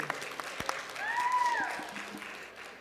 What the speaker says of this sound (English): Everyone should get a big round of applause for Maggie.